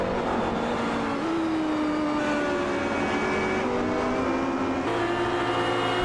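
McLaren GT race cars lapping Spa in a racing game, with a steady, droning engine whine that shifts pitch through gear changes, continuous and moderately loud with several cars overlapping.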